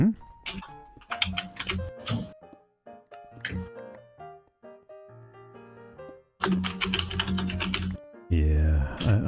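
Keys clatter hard and fast on a computer keyboard in angry bursts, with pauses between flurries and a few heavy thunks, loud and close. Brief game sounds play between the bursts.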